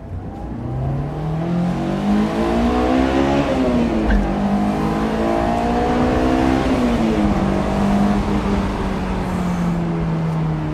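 A Honda S2000 accelerates hard from a roll, engine pitch climbing steeply through each gear then dropping at quick upshifts, loud and close inside the cabin.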